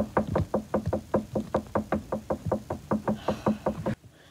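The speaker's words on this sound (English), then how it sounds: "More knocking." Steady, evenly spaced knocks on a door or wall in a house, more than twenty firm raps in a row, close and loud, ending abruptly with silence and no talking.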